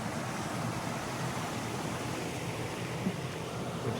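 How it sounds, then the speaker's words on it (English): Steady, dense rush of water flowing over a weir on the River Brain in Braintree, continuous and fairly loud, with no voices. "Here we have the weir."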